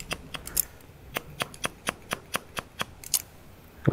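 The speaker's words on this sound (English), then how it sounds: "I'm going to freehand cut the crown" Hair scissors cut freehand at the crown of a man's haircut, snipping in a steady series of about a dozen crisp, close clicks with no talking.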